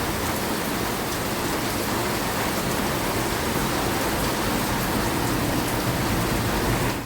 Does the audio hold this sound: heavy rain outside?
yes